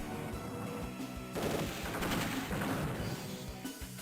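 Unit attacks on tanks in the Advance Wars Dual Strike video game, a continuous barrage of rapid gunfire and explosive blasts that sounds loud and dense, with no talk over it.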